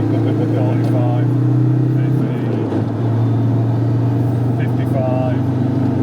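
A Land Rover Td5 pulls hard in third gear, its diesel engine droning loud and steady from inside the cabin with a slight dip partway through, while someone talks over it calling out speeds.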